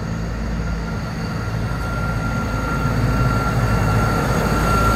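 A Class 159 diesel train, unit 159 007, at Westbury station, rumbling steadily at close range with a low engine drone and a faint high tone, growing slightly louder, no talk.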